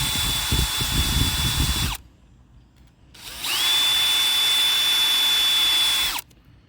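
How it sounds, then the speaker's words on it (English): A handheld drill spinning a wire brush at low speed on a snowblower carburetor runs in two steady whining bursts, about two seconds and then three seconds, separated by a short pause, close and loud with no talk. "I also have my drill here with a wire brush on low speeds. We're gonna wire brush this too."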